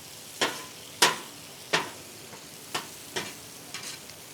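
Ingredients browning in a frying pan give off a faint, steady sizzle, broken by about six sharp clicks and scrapes spaced roughly every half second to second.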